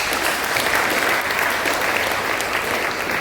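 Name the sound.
audience applause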